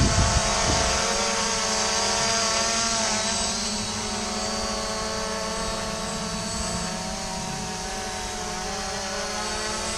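An SG906 drone takes off and hovers close by, its propellers spinning up into a loud, steady high-pitched whirring buzz with layered harmonic whine that holds throughout.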